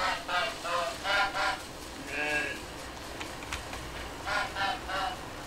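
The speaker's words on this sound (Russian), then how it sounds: "Сейчас мы обойдем этого гуся." A goose in the survival game Force of Nature 2 gives several short nasal honks in bursts, moderately loud against faint game ambience, with a longer call in the middle.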